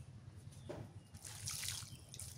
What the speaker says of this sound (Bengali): আর একটু পানি দিই।